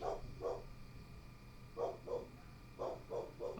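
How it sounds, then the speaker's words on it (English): Dogs bark wildly in quick bursts of two and three, with short pauses between the volleys, sounding fairly distant and faint against a quiet background. "Dogs go mad in the background."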